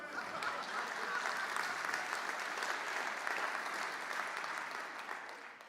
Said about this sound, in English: Thanks for your applause